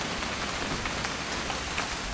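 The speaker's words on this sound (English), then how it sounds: "It's gonna rain the whole weekend, isn't it?" Steady rain falls on surfaces in What Remains of Edith Finch, a dense, even patter of drops throughout with no voices.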